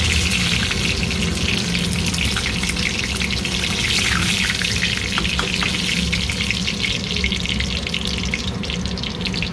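Cumin seeds and curry leaves fry in hot oil with a steady, dense sizzle and crackle that runs the whole time without pause, close and fairly loud, as the base for a potato and barbati seed curry.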